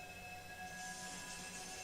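A train in the video game Densha De D runs with a steady rumbling, whining drone and sustained high tones, even and moderately quiet throughout the short stretch with no voices.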